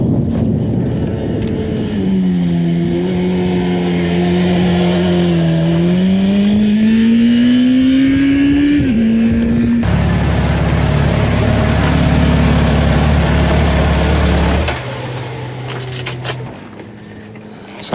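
A motorcycle being ridden and tested for traction, its engine droning steadily and climbing in pitch as it accelerates, then shifting to a rougher, louder tone before easing off near the end.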